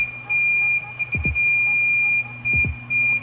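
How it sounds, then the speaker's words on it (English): A multi-tester's continuity buzzer sounds with a steady electronic tone, broken into a few short bursts, while faint low thumps from handling come through in the background. "You can also use the buzzer to see if there is continuity"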